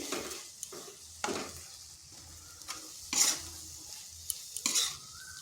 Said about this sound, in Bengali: আর একটু শুকনো শুকনো করব, তাই আর কিছুক্ষণ এইভাবে নেড়ে নিচ্ছি।